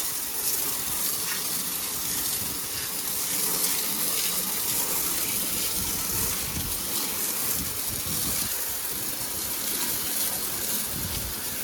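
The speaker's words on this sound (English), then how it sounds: "went ahead and hosed out the trash cans" A garden hose sprays water hard into the inside of trash cans, a loud, continuous, close rushing gush that holds steady the whole time without voices.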